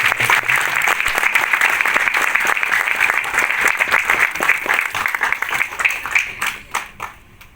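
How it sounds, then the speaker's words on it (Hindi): Strong, sustained applause from a comedy poetry gathering audience at an Indian community centre in Yangon, dense clapping filling the room for several seconds before thinning out and fading near the end. "मैं चाहूंगा जोरदार तालियां बजाकर।"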